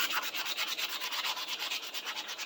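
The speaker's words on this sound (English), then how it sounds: "I'm using scraps of sandpaper here." A four-in-hand rasp being rubbed with scraps of sandpaper, giving steady, rhythmic back-and-forth scratchy strokes about five per second, close up and alone.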